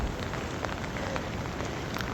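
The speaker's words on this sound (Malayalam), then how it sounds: "മഴ നനഞ്ഞ് ഒരു ലഞ്ച് ബ്രേക്ക്" Rain falls steadily and evenly during a lunch break on the Seven Lakes trek near Anini, Arunachal Pradesh, a close, continuous patter with no voices over it.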